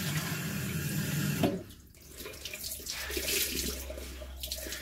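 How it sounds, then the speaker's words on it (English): Running water splashes steadily as a face mask is rinsed off at a sink, a continuous close wash with shifting surges and no talking. "Just give it another wee wash."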